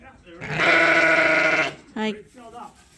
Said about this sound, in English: Lambs are still coming.